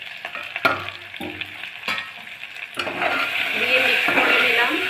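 Ghugni frying in a pan with salt, cumin, coriander, chilli and turmeric powders is stirred in, giving scraping spoon strokes over a steady sizzle that swells louder toward the end.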